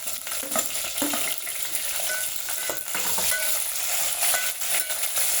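Onions, green chillies and tomatoes frying in a pan, a steady close sizzle with occasional stirring scrapes, no talking.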